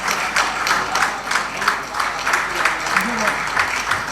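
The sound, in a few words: audience applause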